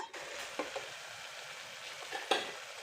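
Spiced masala stirred and fried in a pan for a soya bean and potato curry, a steady close sizzle with occasional scraping knocks of the spoon.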